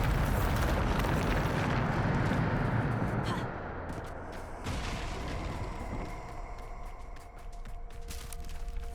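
Bombarda spell explosion in the Hogwarts Legacy video game: a loud, rumbling blast that roars for a few seconds and then settles into a lingering low rumble with scattered debris crackles.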